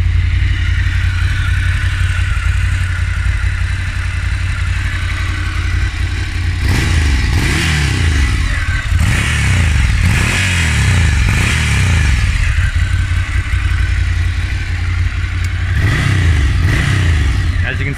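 A 2019 Ducati Scrambler Cafe motorcycle idles close by, a loud steady rumble with a few throttle blips that swell and fall away before it settles.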